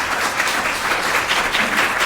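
An audience claps throughout a board of commissioners' meeting, giving dense, even applause that carries on steadily from start to end with no talk.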